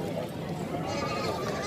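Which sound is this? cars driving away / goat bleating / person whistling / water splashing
goat bleating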